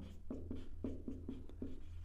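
Chalk or marker strokes on a board during a physics lesson on convex lenses, six short, rhythmic scratches in quick succession, close and fairly quiet, with no talking over them.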